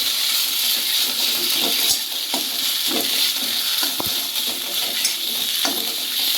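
Bottle gourd leaf mash sautéed in a pan, a steady close sizzle of frying with repeated scraping and stirring strokes throughout, no voices.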